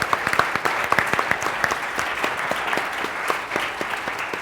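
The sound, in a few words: audience applause for the panel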